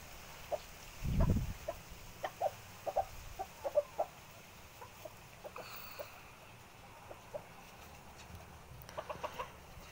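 Bantam chickens cluck softly in the morning sun, with short scattered clucks and one louder squawk close by, over a faint outdoor background.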